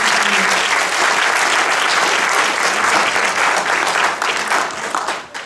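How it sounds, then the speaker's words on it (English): A large crowd at a university mathematics graduation ceremony claps loudly and steadily, the applause sustained for several seconds before tapering off near the end. "Let's give a round of applause to the parents."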